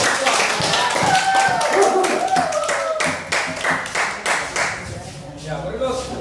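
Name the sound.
applause for group 2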